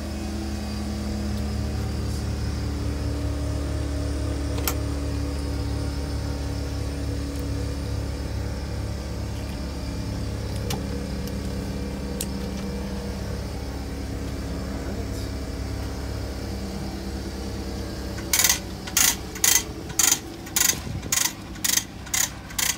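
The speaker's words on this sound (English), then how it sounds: "I got my generator going in the background" A generator drones steadily in the background near a mobile detailer's air compressor and hose reel, a constant low mechanical hum, joined near the end by a quick series of sharp ratcheting clicks.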